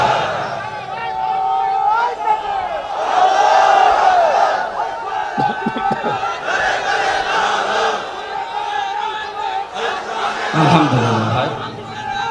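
A huge open-air crowd at an Islamic sermon gathering on a college field in Lalmai, Bangladesh, chants back in loud, swelling waves to a takbir call. Voices overlap in a roaring unison that rises and falls for several seconds.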